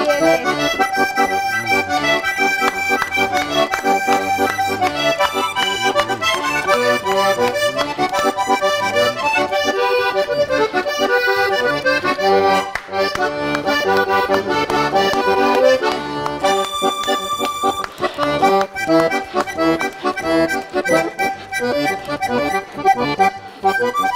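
Accordion leads a lively Colombian vallenato puya on a TV music show, dense and continuous with a fast driving rhythm and full band backing, loud and steady throughout with no talking over it.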